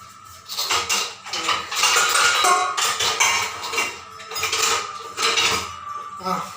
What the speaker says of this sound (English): I'll just take a cooker for this.